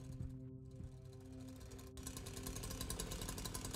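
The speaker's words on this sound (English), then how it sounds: "Back to chainsaws." Chainsaw engine in a video game, a steady buzzing drone with a tonal hum that rises into a louder, rougher revving roar partway through.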